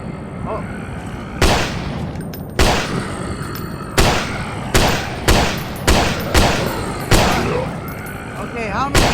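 Gunshots from a handgun in the fog-shrouded horror video game Silent Fogs: Echoes of Evil, about eight sharp reports spaced roughly a second apart, loud and close over a low ambient game drone, with someone talking between them.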